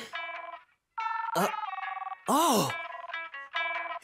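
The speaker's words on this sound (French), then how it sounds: "c'est mon téléphone." A cartoon phone rings with a bright, musical electronic ringtone: repeated tonal bursts of stacked chimes, plus a few swooping sound effects, with a brief voice exclamation at the start.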